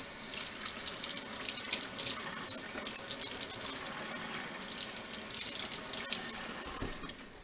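Tap water running steadily into a sink while jointer knives are rinsed after sharpening, a constant close hiss and splash that does not change in level, with no talking.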